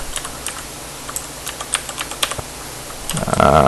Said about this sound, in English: Mad keyboard smashing.